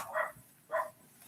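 Dogs barking in the distance, two short muffled barks spaced about half a second apart, faint and alone.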